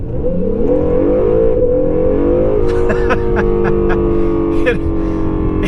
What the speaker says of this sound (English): I'll put it in Sport Plus. We'll go around this turn, and then I'm just gonna absolutely floor it